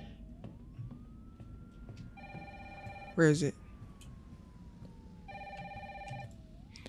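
A telephone rings in the Resident Evil 3 video game: two separate bursts of bright, warbling ringing over a low game background, with a voice speaking briefly between them.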